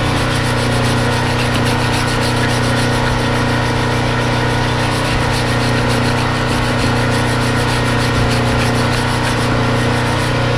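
Guide pins on the brake caliper bracket of a 2008 Volkswagen Jetta 2.5L are cleaned with a steady, close scrubbing and rubbing that runs without a break for about ten seconds, with no talking.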